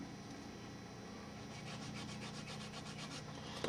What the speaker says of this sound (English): let's go ahead and start doing some sanding